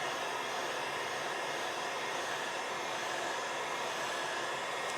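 Heat tool blasting hot air steadily over a piece of artwork, a continuous broadband whooshing roar that stays loud and even throughout with no talking.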